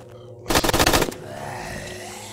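Short rapid burst of automatic gunfire in the video game Live Or Die Survival, about half a second of loud fast shots followed by a fading tail.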